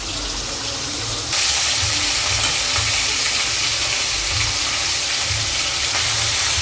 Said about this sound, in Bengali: আমার মাছের মাথাটা ভাজা হয়ে গেছে